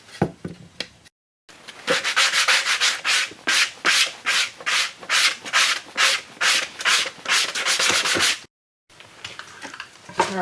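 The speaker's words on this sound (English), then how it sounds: "I'll just rub it in a circular motion, basically just grind it down till it's all nice and even" A wooden bowl, hand-carved from firewood, is rubbed in circles on a driveway to grind its base flat. Gritty scraping strokes repeat in a steady rhythm, loud and close, with no voices.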